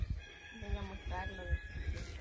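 Chickens in an outdoor rural yard, with a rooster crowing among clucking hens, a close, slightly rough crow over wind and handling noise.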